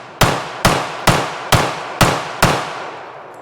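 Six sharp, loud shots from an M45A1 1911 pistol ring out at a steady, quick pace, each with a short echoing tail, and no talk over them.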